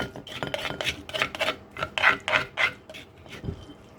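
Mushroom soup is ladled onto a plate in a series of close, rhythmic scrapes and clinks of a utensil against dishware, about a dozen strokes in quick succession.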